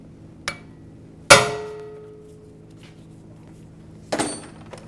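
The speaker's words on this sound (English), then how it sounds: "I'm going to take a hammer, impact Phillips screwdriver, and I'm going to release this mounting screw" Three sharp metallic hammer blows on an impact Phillips screwdriver loosening a rear brake rotor mounting screw on a Honda CR-V. The middle strike is loudest and rings briefly, with quiet pauses between.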